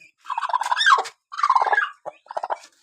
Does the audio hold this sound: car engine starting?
no